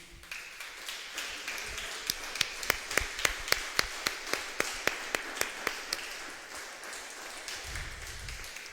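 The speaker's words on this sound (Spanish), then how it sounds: "¿Pudiera darle un aplauso al Señor Jesucristo?" A church congregation claps together in applause during a Spanish-language service, a steady run of sharp overlapping claps that swells briefly and then fades, with room reverberation and no talking.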